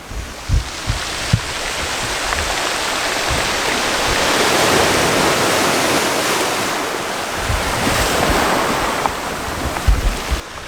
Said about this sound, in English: I'm up on a wall because the sea is coming in.